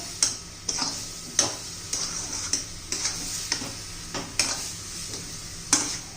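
A spoon stirs a sweet coconut and milk mixture in a pan, scraping in regular sharp strokes about once a second, close and clear over a soft sizzle.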